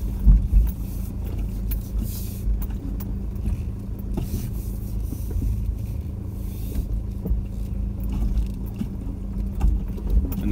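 A 4x4 grinds slowly over big rocks on a rough track, its low engine rumble joined by irregular thumps, scrapes and knocks from the suspension and tyres, close and continuous with no voices.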